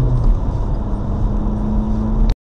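A car pulls away at close range, its engine a steady loud rumble with a low hum that holds for about two seconds before cutting off abruptly.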